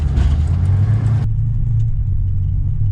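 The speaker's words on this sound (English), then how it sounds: "Pushing through the snow in my 4Runner. Up we hill we go, and we keep spinning." A first-generation Toyota 4Runner labours uphill through snow with its wheels spinning, giving a steady, heavy low engine drone close by that carries on without a break.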